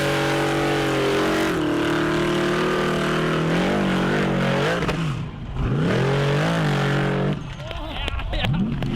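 Hill climb vehicles in the racing game Overpass 2, engines revving and droning with rising and falling pitch, loud and continuous, under someone talking.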